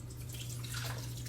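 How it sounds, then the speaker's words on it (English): Quiet gravy pouring over cube steak in a crock pot, with gentle dripping over a low, steady hum, faint and close. "now I'm just going to pour this gravy mixture"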